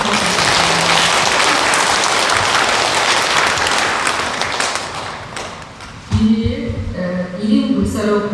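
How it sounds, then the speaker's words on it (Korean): Congregation at a Won Buddhist Sunday service gives thick, loud applause of thanks that fades out after about five seconds, followed by a voice speaking. "다 같이 큰 감사의 박수 부탁드립니다."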